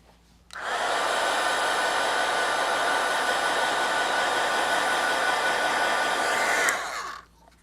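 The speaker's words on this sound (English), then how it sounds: "Get that with my heat tool." A handheld embossing heat gun blows steadily while drying watercolor paint, a loud, even whooshing hiss that switches on, holds for about six seconds, then cuts off, close to the listener.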